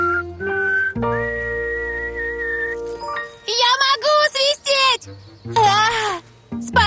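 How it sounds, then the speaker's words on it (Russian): Clear, sustained whistled tones and pitch-shifting trills, like notes blown on a reed, sound loud and near, alternating with short bursts of a voice. "И сейчас я вспомнил, как научился свистеть."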